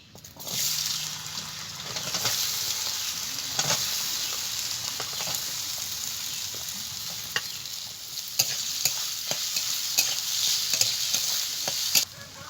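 Fennel seeds and small-cut potato pieces fry in a pan with a steady, crackling sizzle. Repeated scraping and stirring clicks cut through it at intervals.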